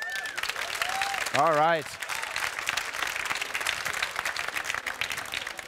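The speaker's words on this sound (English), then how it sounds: "Can we have a round of applause for Moritz?" An audience at an award show applauds in a sustained round of clapping, joined briefly by a short rising and falling musical tone, while a voice speaks briefly over it.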